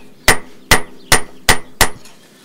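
Five loud, evenly spaced hammer blows ring out one after another as a knife blade is forged to start its bevel, each strike sharp and close with a brief metallic ring.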